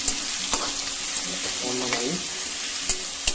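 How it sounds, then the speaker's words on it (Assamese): Freshly ground raw turmeric fries in a pan with pork cooked without oil. It makes a continuous close sizzle with stirring scrapes and occasional clicks of the spoon against the pan, and a voice murmurs briefly. "ফ্ৰাই কৰি ল'ব লাগিব, নহ'লে কেঁচা লাগিবতো।"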